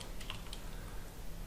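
Quiet typing on a computer keyboard, a few soft, quick key clicks in a short burst over a low hum, with no talk.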